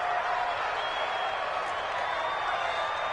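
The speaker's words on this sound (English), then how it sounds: "The crowd getting into it as we come up on a big 3rd down." Football stadium crowd at a Falcons versus Hawks game, building before a big third down: a steady, loud wash of cheering and roar from many voices, continuous throughout with no pauses or distinct individual calls.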